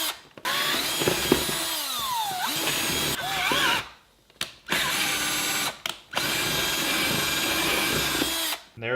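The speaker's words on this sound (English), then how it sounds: "I created a hole in this shoebox so that that can sit down in there and flush while I drill downwards." Power drill boring a hole downward through a plastic fog light bezel resting in a shoebox, loud and close, with several long whining runs broken by brief stops and shifting pitch.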